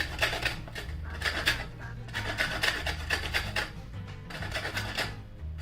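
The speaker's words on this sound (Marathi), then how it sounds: "अलगद वरचा भाग आहे ना तो असा नुसता किसून काढायचा" Coconut flesh is grated off the shell in quick, repeated rasping strokes, a close, steady rhythmic scraping with no talk.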